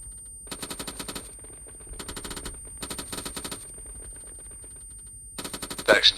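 GPMG machine gun fire in the video game Arma 3, heard as four short rapid bursts with pauses between them, loud and sharp against a quiet background.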